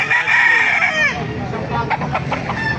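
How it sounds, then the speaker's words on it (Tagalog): Chickens cluck and a rooster crows loudly nearby at the Baliuag market, with busy fowl noise throughout. "ganda ng mga manok dito"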